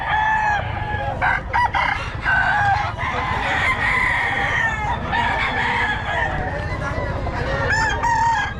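A Pumpkin Sweater gamefowl rooster crows repeatedly at a busy market stall, its loud calls rising over a steady wash of crowd noise and low background rumble.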